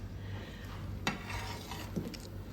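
A spoon stirs a pot of boiling tomatoes and peppers, giving two faint, brief clinks against a low, steady background.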